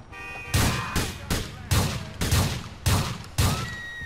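Bursts of gunfire in GTA IV, set during an LCPDFR police patrol: seven loud, sharp reports at fairly even intervals of about half a second, each ringing out briefly. Faint background tones sit underneath, with no talk.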